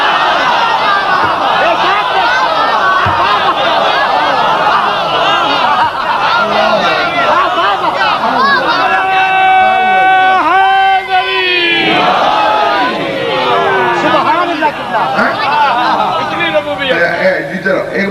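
Large crowd at a religious majlis gathering chanting slogans together, a loud sustained mass of voices with a rising unison chant in the middle, echoing in a hall.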